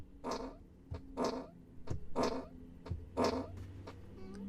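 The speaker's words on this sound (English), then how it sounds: "Like, press the steering wheel and it farts for you." Tesla Model 3 novelty fart sounds triggered from the steering wheel, played as a series of four or five loud, separate blasts with brief gaps between them, heard close inside the car with no talking.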